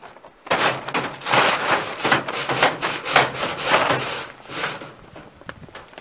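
Creosote loosened from a stove pipe by cleaning rods falls into a bag, a close series of rough scraping, rustling and pattering bursts that rise and fall irregularly for several seconds, with no talk.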